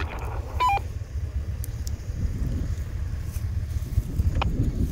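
A mobile phone inside an off-road vehicle, during an off-road rally, gives a quick burst of dialing beeps early on, set against steady wind and low vehicle rumble.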